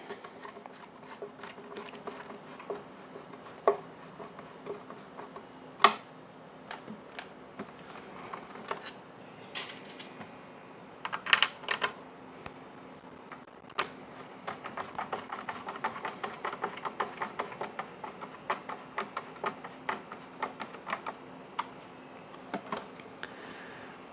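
Faint, scattered clicks and small metallic taps as bottom screws are driven back into a Ryobi backpack blower housing, the brief ticks spaced irregularly over a quiet background.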